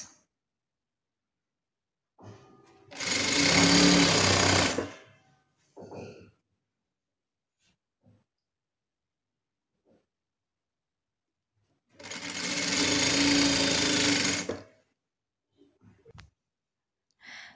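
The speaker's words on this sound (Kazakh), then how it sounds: "Бүткіл ұзындығын екі жағынан да 2 сантиметрден тігіп аламыз." A sewing machine stitches along curtain edges in two sustained runs of rapid mechanical stitching, each lasting a couple of seconds, separated by quiet pauses with faint handling clicks.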